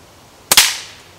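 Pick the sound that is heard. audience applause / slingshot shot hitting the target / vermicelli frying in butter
slingshot shot hitting the target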